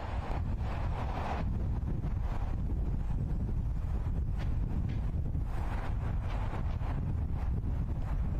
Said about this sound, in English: Sounds extra windy today.